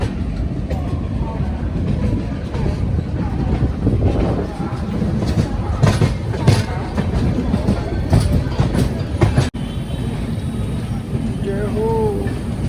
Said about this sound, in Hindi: इधर आई अपनी दिल्ली की ओर जाने वाली बिहार संपर्क क्रांति।